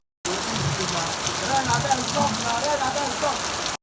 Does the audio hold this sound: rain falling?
yes